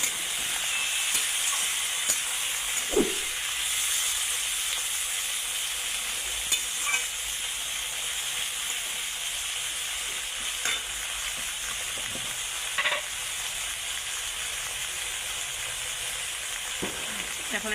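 A steady sizzling hiss of mutton frying with chopped tomatoes and slit green chillies fills the pan, broken by occasional soft scrapes and knocks of a spoon stirring it all together; no voices.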